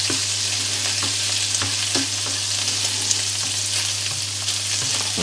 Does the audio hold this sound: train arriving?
no